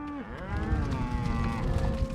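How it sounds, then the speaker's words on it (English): A herd of cattle moving across remote ranch country in south central Montana, with a long, loud, harmonic moo up close over a dense rumble of hooves and jostling animals. "Driving cattle at Dryhead Ranch in south central Montana."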